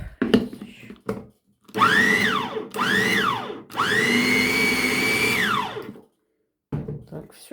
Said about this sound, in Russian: Я сейчас еще раз перекручу немного